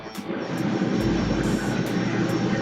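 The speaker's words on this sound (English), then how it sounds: "It sounds like the airplane." Airplane engine noise forms a steady, loud drone that fills the whole stretch, with a low rumble coming up partway through and no voices over it.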